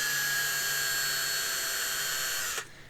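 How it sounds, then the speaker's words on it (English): A power drill bit widens a hole in a plastic Warhammer 40k Adeptus Custodes Vertus Praetor jet bike model, a steady loud high-pitched whine that runs continuously and then cuts off abruptly near the end. "We're just drilling out that hole a little bit bigger."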